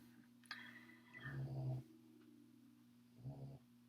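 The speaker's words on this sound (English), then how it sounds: "That's my dog snoring." A dog snoring softly indoors: two low, rumbling breaths about two seconds apart, faint and close, over a steady background hum.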